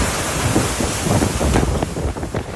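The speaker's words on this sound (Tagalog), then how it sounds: "Buong araw na malakas ang hangin at ulan sa Kasiguran Aurora dahil sa bagyong Nika." Strong typhoon wind from Typhoon Nika roars across an open microphone in Kasiguran, Aurora, a steady broadband rush with gusty surges and no voices.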